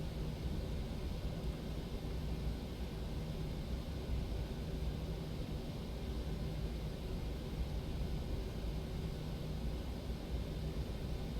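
A PMDG 737-800 taxiing in the Prepar3D flight simulator, a low steady engine hum with broadband noise, constant and fairly quiet, no talk.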